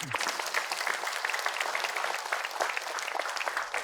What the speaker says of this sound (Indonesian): Tepuk tangan semua boleh.